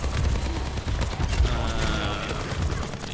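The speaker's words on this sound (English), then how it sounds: "Okay, shoot the Mercy here." Rapid gunfire from Overwatch competitive play rattles in dense bursts, loud and close, with faint talk underneath.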